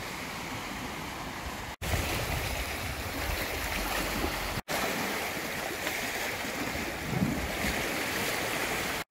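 Wind gusts buffet the microphone on a breezy, clear day at the Leetse tent campsite as tents go up, a loud rushing roar with two brief dropouts and possible surf-like wash beneath, no voices.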